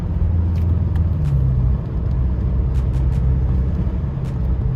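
BMW F10 M5 fitted with aftermarket Project Gamma intakes accelerating smoothly, a steady loud low engine rumble and intake roar held close throughout with a slight dip midway, no voices.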